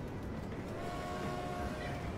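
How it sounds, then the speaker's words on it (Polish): Electric locomotive train passing close by, a steady heavy rumble with a faint sustained tone running through it, continuous and unbroken for the whole stretch. "Lokomotywy z trakcją."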